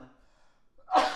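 A single sharp sneeze bursts out at the end, loud and close, after a few faint breathy sounds.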